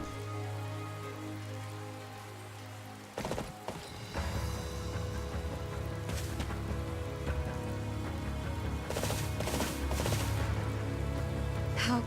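Steady rain falls in the video game Fire Emblem: Three Houses, a dense, even hiss that holds throughout with no voices, briefly interrupted by a couple of soft thumps.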